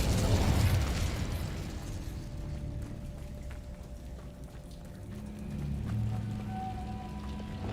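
The Incendio fire spell is cast in the video game Hogwarts Legacy, opening with a loud fiery burst and whoosh that fades into a low rumbling game ambience with faint tonal effects.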